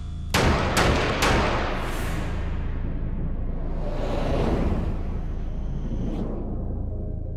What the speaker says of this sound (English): First, the replica Spitfire gun.